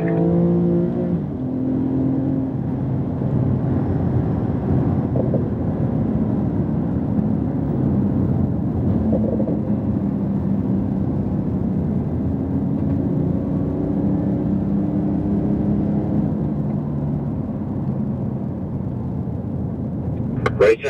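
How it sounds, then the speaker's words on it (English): Porsche 911 Turbo S accelerating on a race track, a steady engine drone with rising harmonic tones held throughout, heard under an instructor's continuous talk. "All right, let's accelerate together."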